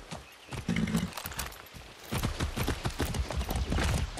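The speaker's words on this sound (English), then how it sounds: "Be nice, horse." A horse in the video game Far Cry 6 neighs and whinnies while its hooves clip-clop steadily, loud and close, with continuous movement and no speech.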